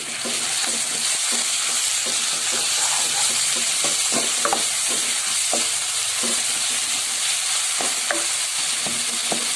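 Ground onion frying in a pan with garlic and ginger for kalay chanay, a steady loud sizzle with scattered stirring scrapes and clinks, no talk.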